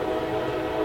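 A train sound effect with a steady horn-like tone and a rumbling undertone, loud and sustained through a brief moment.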